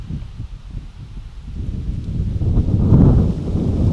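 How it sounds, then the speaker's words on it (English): Wind buffets the microphone with a low, rumbling roar that swells louder toward the middle and stays strong to the end. "all right, so it is windy. I apologize."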